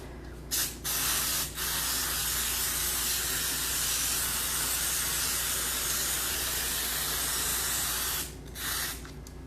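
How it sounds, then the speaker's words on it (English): A long, steady cooking-spray aerosol hisses close by for several seconds over kibbeh before baking, with short bursts at the start and a brief spritz at the end. "we spray some cooking spray on top"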